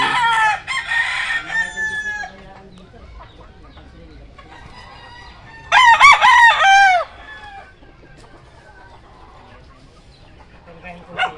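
Roosters at a chicken farm crow loudly in two clear bouts, with softer clucking and rustling from the flock in between.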